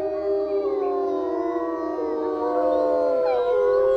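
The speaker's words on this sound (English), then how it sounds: "In the wolf world, this is a territorial warning." A recorded wolf howl played back as a territorial warning: long, steady wavering howls that rise and fall, loud and sustained, with several overlapping voices throughout.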